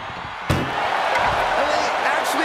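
A heavy slam rings out once in a wrestling ambulance match, a sharp thud amid continuous arena crowd noise and commentary.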